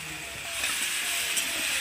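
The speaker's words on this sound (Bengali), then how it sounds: "সবজিগুলো খুব ভালোভাবে তেলের মধ্যে নেড়ে চেড়ে ভেজে নেব।" Vegetables and onion stalks frying in oil, a steady close sizzle with faint crackles and scraping as they are stirred, with no voices.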